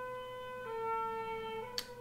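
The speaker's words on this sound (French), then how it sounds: "Sirène de pompier." A fire engine siren sounds faintly from outside as a sustained two-tone wail, shifting pitch partway through, with a brief sharp noise near the end.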